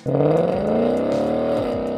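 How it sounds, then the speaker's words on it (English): A 2018 Mustang GT with a Ford Performance Sport Catback exhaust and no active exhaust revs in a deep, loud, sustained V8 drone whose pitch climbs gently, then eases slightly near the end, with no talking. "this is the Ford Performance Sport Catback designed for the 2018 Mustang GTs without the active exhaust feature"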